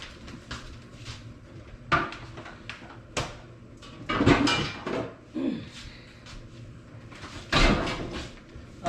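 A small cast iron skillet fetched and handled in a home kitchen gives scattered hard clanks and knocks, with a busier cluster of metallic bumps in the middle and another sharp knock near the end, with no voices.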